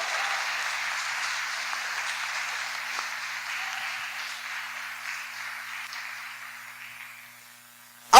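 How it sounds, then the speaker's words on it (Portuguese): A church congregation applauds during a sermon, a steady wash of clapping that fades gradually before a sharp loud sound cuts in at the very end. "Dá um aplauso a esse Deus maravilhoso."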